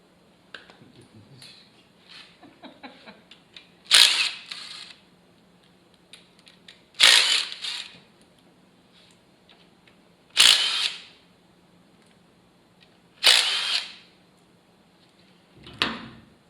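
Air impact wrench used to disassemble a Ford 302 V8 engine, giving four short loud rattling bursts at spaced intervals plus a brief final one, nearby with quiet workshop handling sounds between.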